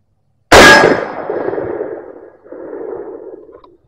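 Single loud rifle shot from a 6.5 with an 18-inch barrel, fired with 100-grain steel-case ammunition, striking a steel Level 3+ Predator armor plate: a sharp metallic clang that rings out and decays over about three seconds, with no talking.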